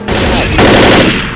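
Rapid gunfire from the video game Left 4 Dead rattles out in a loud, dense burst lasting just over a second, close and harsh.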